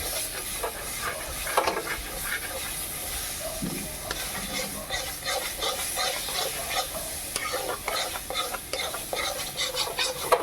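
Raw banana ghonto being stirred in a pan, a steady sizzle and hiss with repeated scraping strokes of a spoon against the metal, close and continuous throughout.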